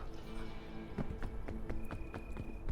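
A voice imitates horse hooves with rhythmic clip-clop clicks, steady and fairly quiet, over a low background hum.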